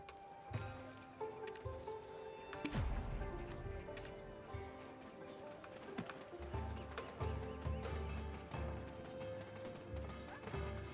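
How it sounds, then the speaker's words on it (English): Horses in the online game Black Desert Online clip-clop along with steady hoof beats and let out a loud whinny, the hooves continuing in uneven rhythm close by amid ambient game sounds. "I'm trying to befriend these horses."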